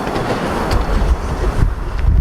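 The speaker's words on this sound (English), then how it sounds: "That's the subway you can hear running in the background there." A subway train rumbles steadily nearby under Yonge Street, a loud continuous roar with faint rhythmic wheel clatter, no voices.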